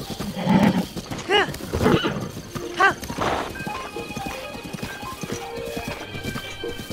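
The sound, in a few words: horse hooves clip-clopping while riding a tamed wild horse, Zelda video game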